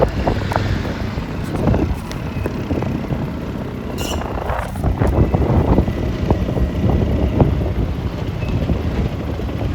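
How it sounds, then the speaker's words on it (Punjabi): Wind noise buffets the microphone while a scooter rides slowly along a road during a village trip in Punjab, with a steady low engine and road rumble and constant rushing air throughout. "ਸਕੂਟਰ ਹੌਲੀ ਚਲਾਉਣਾ ਪਿਆ"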